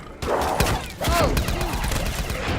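Bursts of video game gunfire crack out in quick succession, with a brief lull near the start and then a dense run of shots and thuds, loud and close.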